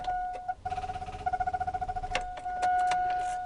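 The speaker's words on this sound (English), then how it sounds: "Can't start the car." A car with a battery run down by headlights left on cranks without catching, a rapid rhythmic churning of the starter lasting under two seconds while a steady electronic warning chime sounds throughout.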